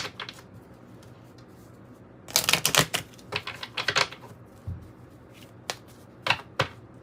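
A Kipper deck of oracle cards is shuffled close up, with a burst of rapid riffling clatter followed by scattered sharp card taps and slaps, with no talk.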